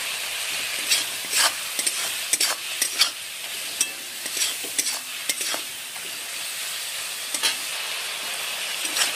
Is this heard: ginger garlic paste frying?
yes